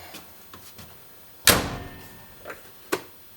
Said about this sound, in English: that's to see if my door would shut